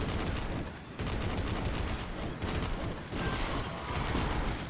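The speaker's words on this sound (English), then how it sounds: "Good old heavy machine gun works well, especially when it drops heavy ammo" Heavy machine gun blasting in sustained, dense bursts during a Destiny firefight, loud and close, with only a couple of brief gaps between long volleys and faint mechanical clatter.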